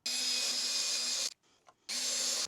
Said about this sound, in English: I think it's going to be cleaner if I go ahead and router it all out